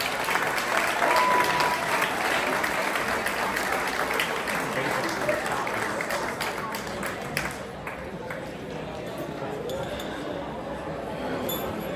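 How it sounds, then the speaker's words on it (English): A Gloucester Catholic Hall of Fame awards audience applauds the 2000 baseball team with steady clapping and some glassy clinks, easing off midway. Voices and chatter carry on beneath it. "another applause for the 2000 baseball team"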